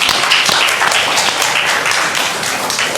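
A talk show audience applauds steadily as the moderator enters, dense clapping filling the room loudly and evenly for the whole stretch without a break.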